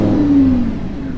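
A 2017 Lamborghini Huracan engine fires up with a loud, steady low roar and a brief rising rev, close by and alone for about a second.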